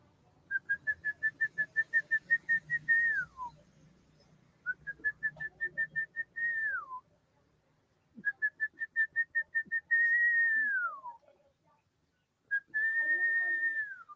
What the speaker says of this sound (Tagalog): Mahina na ako sumipol.